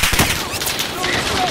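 Rapid bursts of gunfire in a Call of Duty: Modern Warfare multiplayer match, loud and dense throughout, with other battle noise mixed in.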